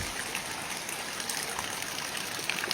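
Floodwater in Laos after a night of heavy rain flows steadily in a continuous broadband rush, close and moderately loud, with no voices.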